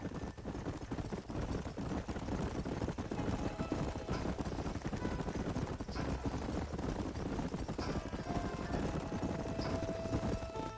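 Horses galloping in Red Dead Redemption, a continuous rapid clatter of hooves with rumbling game ambience, fairly even and sustained throughout, no clear talk.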